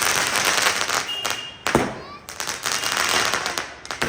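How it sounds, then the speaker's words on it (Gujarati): Sharp firecracker bangs and crackles burst amid noisy outdoor chatter during a celebration of Lord Ram's day, with one prominent loud pop near the middle. "હવે બીજો ફટાકડો આપણો ફૂટશે"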